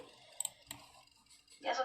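Mouse clicks during a sword-collecting video game session, a few sharp isolated taps spaced apart, fairly faint, with a person talking softly around them.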